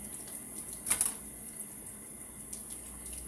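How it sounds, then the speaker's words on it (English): Butchered coturnix quail rinsed under a running kitchen tap, a steady close hiss of water with small splashes and clicks as the birds are handled. "Again, give them a good rinse."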